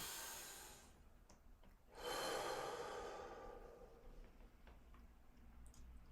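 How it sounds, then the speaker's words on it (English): A single deep breath in, a slow soft inhalation swelling in the middle and easing off, close and quiet in a calm setting. "Take a deep breath in."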